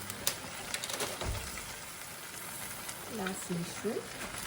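Shrimp are stirred through Malaysian fried rice vermicelli with bean sprouts and spinach in a pan, giving a faint, steady sizzle with soft scraping. A voice briefly speaks near the end.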